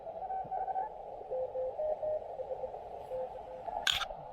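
Amateur radio contest signals on a portable POTA station receiver: faint Morse-code beeps and a louder steady CW tone over band hiss, followed by a brief burst of noise near the end.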